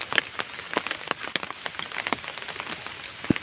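Steady rain patters close by, with sharp individual drops striking a surface in an irregular rhythm.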